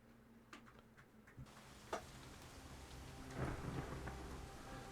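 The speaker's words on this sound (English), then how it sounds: "Periodic thunderclaps roar like distant cannon fire." A thunderstorm in the video game Shadowrun: Hong Kong, with steady rain hiss and several sharp thunderclaps followed by a rolling rumble, all fairly quiet.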